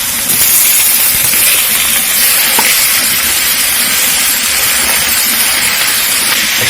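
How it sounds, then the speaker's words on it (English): Ground beef hits hot oil in a pan for cabbage rolls, setting off a loud, steady, broadband sizzle and hiss that holds unbroken and close throughout. "And then I'm going to add my ground beef in"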